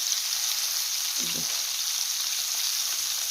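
Capelin sizzles steadily in a hot pan over moderate heat, a constant crackling hiss with a brief low scrape partway through.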